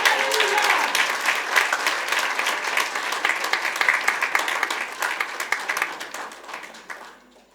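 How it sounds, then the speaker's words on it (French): A church congregation at a French-language worship service claps loudly and continuously in praise, dense applause that gradually thins and fades out at the end. "est-ce qu'on peut applaudir bien fort Jésus?"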